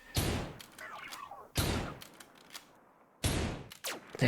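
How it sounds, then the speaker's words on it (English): Machine gun fire in a video game: three loud, separate bursts of rapid shots, a second or more apart, each cutting off abruptly before the next. "This is how fast the gunshot sounds are now."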